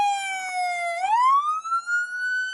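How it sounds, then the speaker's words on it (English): A police car siren wails up close and loud, its tone dropping and then sweeping back up in a steady electronic rise, with no talk over it. "Turn off the siren, dog."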